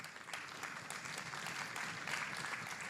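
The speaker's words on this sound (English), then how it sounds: "Anybody here? By show of applause." Audience at a pitch contest finale giving a show of applause, a fairly faint spread of clapping from a room of people heard from a distance.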